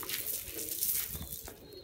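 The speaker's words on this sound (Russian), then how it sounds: "Ну и кормим на свежем воздухе голубей" Pigeons gather to be fed outdoors in icy winter weather, with soft cooing and faint fluttering mixed into a steady open-air background.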